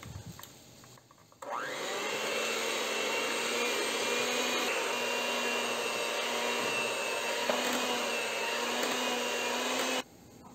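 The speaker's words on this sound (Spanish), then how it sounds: "Ahora agregamos la leche con la vainilla y seguimos alternando hasta terminar todos los ingredientes." An electric mixer whirs steadily through banana cupcake batter with milk and vanilla, switching on abruptly, holding a constant close motor whine for about eight seconds, then cutting off.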